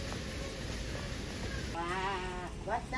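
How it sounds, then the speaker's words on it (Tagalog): A black sheep at a zoo bleats once near the end, a short wavering cry over steady ambient noise and crowd murmur. "Black sheep. Baba."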